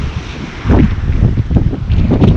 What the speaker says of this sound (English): It's freaking windy, guys!